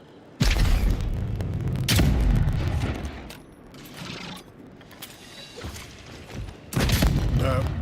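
An enemy fires at the player in the video game Avowed: loud booming gunfire bursts arrive in heavy blasts, with quieter rumbling stretches between them and a final loud volley.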